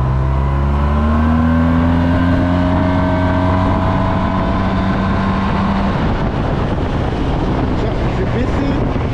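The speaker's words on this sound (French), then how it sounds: "vu que tu peux mettre poignée dans l'angle facilement, j'ai l'impression que ça accélère beaucoup" A Yamaha TMAX maxi-scooter accelerates hard, its engine note climbing steadily in pitch over a loud rush of wind buffeting the microphone, close and continuous throughout.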